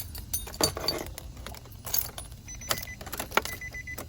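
Keys jangling and clinking as a car key is turned in the ignition of a Nissan Sentra, a few bright metallic rattles scattered over a low, quiet hum.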